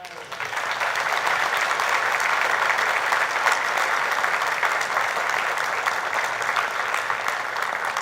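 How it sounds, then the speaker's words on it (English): Sustained audience applause at a black belt martial arts grading, a dense steady clatter of many hands that carries on evenly for about eight seconds. "a nice big round of applause"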